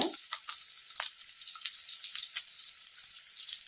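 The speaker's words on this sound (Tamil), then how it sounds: "கொஞ்சம் கருவேப்பிலை சேர்த்து நல்லா வதக்கி விடுங்க" Slit green chillies sauté in hot oil with a bright, continuous sizzle and crackle, close up, broken by a few soft stirring scrapes and no voices.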